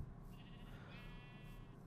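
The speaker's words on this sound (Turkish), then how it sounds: "Orada koyun oğlum bu koyunun da eti çıkmıyor ki ben anlamıyorum." A sheep bleats once, a drawn-out, wavering cry in a survival video game, heard faintly over a low steady game hum.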